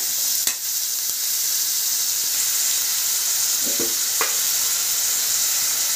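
Green chillies frying with a little salt in a pan for egg poratu, a constant bright hiss and sizzle with a few clanking stir strokes of a spatula against the pan, close by and without voices.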